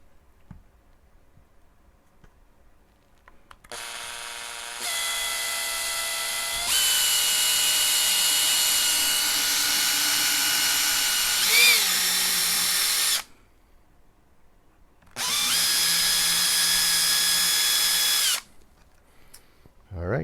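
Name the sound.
drilling into black limba Strat guitar body cavity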